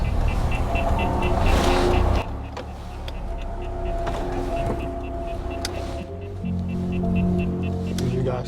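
A Lexus IS250 AWD engine revs from inside the cabin on a late-night drive, a loud, sustained droning hum that rises, dips, then climbs again in pitch.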